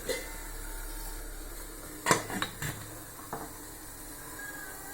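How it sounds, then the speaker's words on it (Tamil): A metal lid is set on a steaming pot of aval kozhukkattai dumplings, making one clear clank followed by a few brief rattles. A faint steady hiss continues underneath in an otherwise quiet kitchen. "இப்போ மூடி வச்சிடலாம்"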